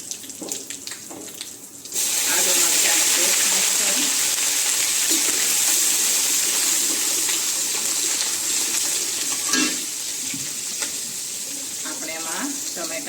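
Mustard seeds and asafoetida hitting hot oil with dried red chillies and cinnamon for a bitter gourd curry, a loud, steady close-up sizzle that bursts in suddenly and continues with faint crackles.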